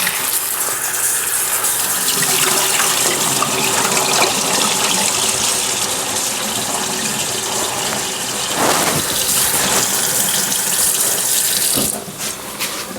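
Kitchen tap water runs steadily into a sink while butter beans are washed, a loud continuous gush with small splashy shifts, briefly easing near the end.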